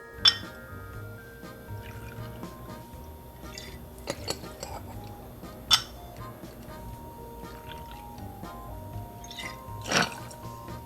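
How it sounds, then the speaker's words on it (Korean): Smirnoff vodka poured over ice into a mixing glass: a soft liquid pour with light glassy clinks and drips, close and fairly quiet, a few sharper ice-on-glass ticks standing out over gentle background music. "얼음이 담긴 믹싱 글라스에 보드카, 이온스"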